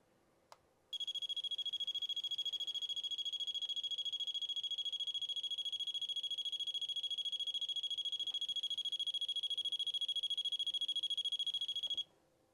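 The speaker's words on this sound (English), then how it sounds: "it will trigger a longer, higher tone burst on a proximity sensor" A door alarm proximity sensor sounds one long, steady, high-pitched electronic tone lasting about eleven seconds, loud and continuous against a quiet room, cutting off abruptly at the end.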